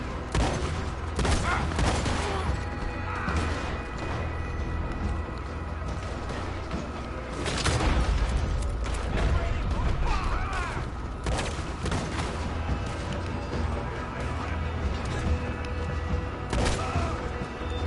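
Rapid gunfire from a Red Dead Online shootout, loud bursts and booming shots packed densely over continuous action noise, with a voice speaking briefly amid the firing.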